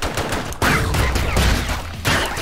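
Rapid gunfire in the fast action game ScourgeBringer, a dense, continuous burst of shots with bursty loudness across the whole moment, close and loud, with no talking over it.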